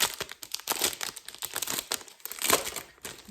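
Packaging on a store-bought stationery notebook set is pulled open, producing loud, continuous crinkling and tearing of plastic wrap close up, with bursts of rustling and no voices.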